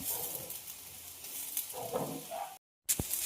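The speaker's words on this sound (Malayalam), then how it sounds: "നമുക്കൊന്ന് അരപ്പൊന്ന് മൂപ്പിച്ച് കൊടുക്കാം" Ground coconut paste fries in a pan, giving a steady close sizzle with soft stirring scrapes and a brief silent gap near the end.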